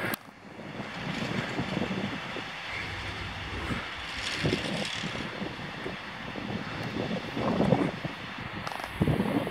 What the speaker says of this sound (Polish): Zgarniarka tłucznia, czy coś takiego